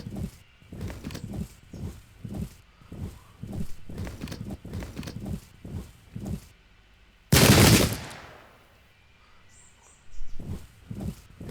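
A rifle volley crashes out at once in a Battle of Ulundi strategy game, one loud dense burst of massed gunfire that decays quickly, set among steady rhythmic marching or hoofbeat thuds and distant battle noise.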